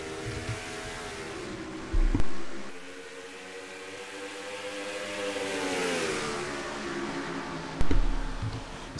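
Stock race car engines in a racing video game, a steady mid-pitched drone of several cars running close together, with two brief louder swells as cars pass near.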